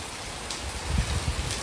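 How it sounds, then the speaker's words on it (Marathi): Heavy rain falls onto a porch in a dense, even hiss, with a few soft low thuds of splashing water toward the end of the brief stretch. "मोठा पाऊस आहे."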